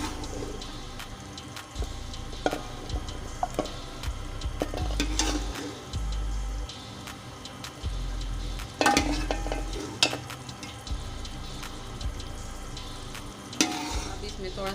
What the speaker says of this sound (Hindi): अब इसको थोड़ा सा भून लेंगे।